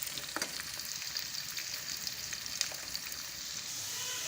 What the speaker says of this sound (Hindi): 2 से 3 मिनट तक हमने प्याज को अच्छे तरीके से फ्राई होने देना है